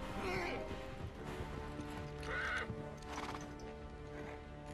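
Horses in the desert in Uncharted 3 whinny and neigh repeatedly with scattered hoof clatter, heard close under game music and ambient noise, with voices speaking over them.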